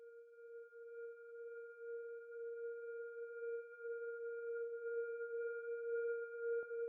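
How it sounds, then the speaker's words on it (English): A one-note ambient drone for future garage music holds a steady, soft pure tone with a faint higher overtone, unchanging throughout and ending in a small click. "So the next thing that we have here is this little Onenote Drone thing"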